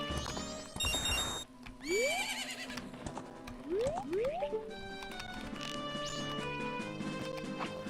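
A horse neighs loudly in a video game, its whinnies rising over busy game music and effects, with hoofbeat-like clip-clops and a crash mixed in.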